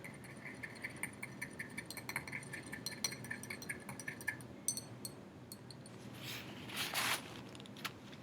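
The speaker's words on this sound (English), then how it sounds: "Let's agitate with my clean stirring rod." A clean glass stirring rod agitating a mixture in a lab container during a physical and chemical changes experiment, a quiet rapid run of light clinks and taps, followed by a brief swishing rush near the end.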